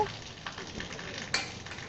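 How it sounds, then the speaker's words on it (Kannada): Grated coconut fries with pumpkin palya in a pan, giving a soft, low sizzle with a few light stirring scrapes and one sharper clink of a spoon against the pan. "ಸೇರಿಸಿ 1 ನಿಮಿಷ ಚೆನ್ನಾಗಿ ನಾವು ಫ್ರೈ ಮಾಡ್ಕೋಬೇಕು"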